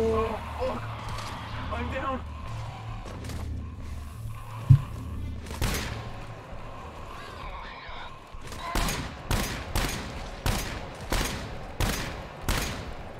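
Gunfire in the co-op shooter game GTFO: scattered shots early, then a rhythmic run of sharp, evenly spaced shots toward the end, with players talking over the action.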